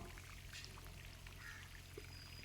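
Water is poured into a planting pit around a newly planted casuarina sapling, a faint, steady pour over a low background hum.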